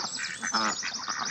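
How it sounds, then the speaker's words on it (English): Homestead ducks near their duck house quack at breakfast time, a loud, close, overlapping chorus of raspy calls that never lets up. "Morning, ducks! Morning! Can you hear them?"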